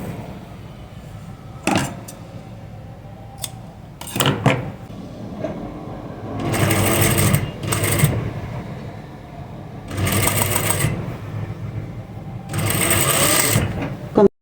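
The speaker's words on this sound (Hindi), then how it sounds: "पहले मुझे ये वाली सिलाई मुकम्मल करनी है।" Loud bursts from a sewing machine stitching a baby yoke frock, several separate runs of a second or two each, broken by clicks and fabric handling between them.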